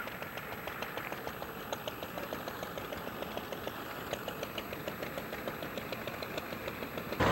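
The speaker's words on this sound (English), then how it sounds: "And there's the tractor coming back from the field, loaded with stooks" An older vintage tractor engine chugs steadily at a moderate distance at a threshing event, with a rhythmic mechanical knock throughout.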